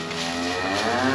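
A cow on a farm during calving preparation lets out one sustained, loud, close moo that fills the whole moment without speech.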